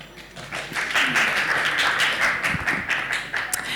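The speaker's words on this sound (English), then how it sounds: "huge round of applause to him." Steady crowd applause, a dense wash of many hands clapping at once that holds for a few seconds without any talking.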